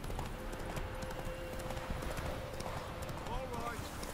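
Horse galloping in The Witcher 3: Wild Hunt on Xbox One, rapid rhythmic clip-clop hoofbeats running steadily at moderate volume, with someone talking over them.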